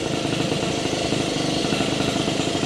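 A Honda Express moped engine, an old abandoned bike being restored, idles steadily with a continuous, close buzzing putter and no talk over it.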